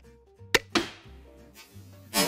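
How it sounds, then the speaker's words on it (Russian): A crisp shot from a mini crossbow with reinforced limbs cracks, then the bolt slams into a Mercedes car door with a short resonant metal clang, followed by another sharp burst near the end. "стрелять мы будем по Мерседесу, точнее, по части Мерседеса, а именно по двери"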